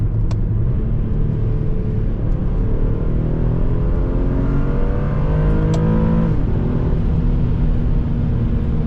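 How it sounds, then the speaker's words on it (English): An Infiniti G37 engine revs loudly and continuously, its pitch climbing as it accelerates, with a deep rumble throughout. "that was very fun to just rev out the engine"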